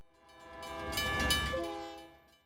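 A train approaches a railroad crossing in San Marcos, Texas, its horn sounding in long sustained blasts that swell to a peak and fade, over a low rumble of rolling cars.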